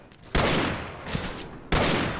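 Two loud, close gunshots ring out in the Western shooter game Fistful of Frags, the first at a quarter second and the second near the end, each a sharp broadband crack with a lingering tail and no talking.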